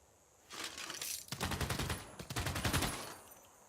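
A city ranged strike hits a bombard in Civilization VI, a burst of rapid, loud gunfire-like volleys that rises after a quiet start and rattles on in dense clusters for about three seconds.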